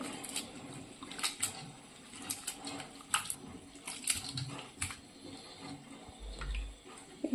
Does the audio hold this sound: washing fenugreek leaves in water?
yes